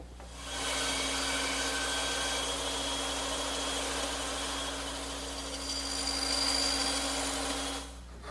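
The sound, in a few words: bandsaw cutting angled tenon in wood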